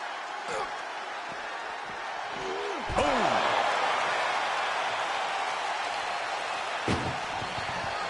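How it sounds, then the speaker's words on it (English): Heavy metallic ambulance door slams ring out in the WWE 2K24 wrestling game, a big one near the three-second mark and another later, over a steady crowd-like din with occasional voices. "Doing their best just to shut that first door."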